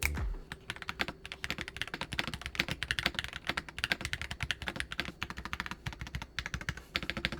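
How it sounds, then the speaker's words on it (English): Fast, continuous typing on a Sony magnetic-switch keyboard, with crisp, even key clicks in a dense, close, quiet rhythm and no voices. "Sony made this keyboard sound extremely good"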